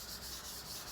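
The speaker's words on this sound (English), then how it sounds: "that's about that for the hand sanding" Sandpaper rubs back and forth by hand along a knife blade in short rhythmic strokes, a soft close scratchy hiss with no voices.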